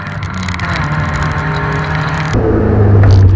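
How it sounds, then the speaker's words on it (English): A 505-horsepower Alfa Romeo Stelvio Quadrifoglio SUV drives on a race track, its loud engine droning steadily close by, then a deeper, heavier rumble swelling toward the end. "This is the 505 horsepower Alfa Romeo Stelvio Quadrifoglio."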